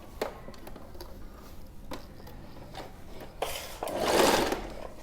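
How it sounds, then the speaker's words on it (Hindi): A sewing machine stitches fabric for a tulip salwar, with faint mechanical ticks and handling noise building to a louder whirring burst of stitching near the end, close by. "यहाँ पर हम इस तरह से स्टिचिंग शुरू करेंगे"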